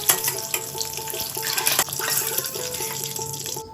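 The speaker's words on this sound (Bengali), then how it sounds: "ডিমগুলো ভেজে নেব ডিমটা শুধু নুন দিয়ে ভেজে নেবো" Eggs fry with only salt in hot oil, a brief crackling sizzle with watery hiss and faint clinks, no talk.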